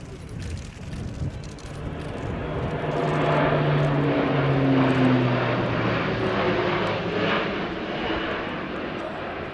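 An Airbus A400M Atlas military transport, a large propeller aircraft, drones overhead at an air show flying display, its engine roar swelling as it passes and slowly fading, with a steady low hum throughout.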